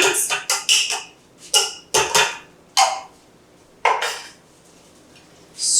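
Metal spoon knocking and scraping around a pot of green chili pork posole, a run of sharp close clinks in quick bursts with short gaps between.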